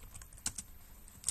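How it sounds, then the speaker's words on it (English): A password is typed on a computer keyboard, giving a few soft, irregular key clicks in a quiet room. "as you type in your password,"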